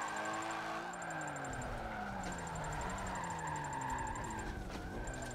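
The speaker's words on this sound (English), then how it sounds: "drifting in a car that's not set up specifically how I like it" Car drifting in F7 Drift Rivals, a steady engine drone with sliding tire noise and pitch shifts as the car swings through a drift, continuous throughout with no talk.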